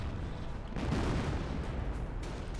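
A howitzer shell explodes in the Company of Heroes strategy game, a dull, muffled boom swelling briefly over a dense rumbling battle background, fairly distant and soft.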